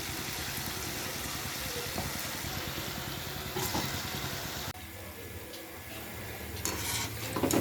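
Palm fruit fritters (taler bora) frying in hot oil give a steady, close sizzle and bubble that carries through the whole stretch, with a slight dip in texture midway.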